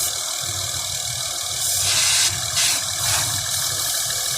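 A Honda Pilot engine idles steadily with a low rumble during vacuum leak testing, a brief hiss of spray rising over it partway through.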